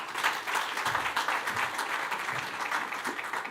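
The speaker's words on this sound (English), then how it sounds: "Another warm round of applause for that." Warm audience applause at a corporate sustainability report launch event, a dense sustained patter of many hands clapping throughout, evenly loud with no talk.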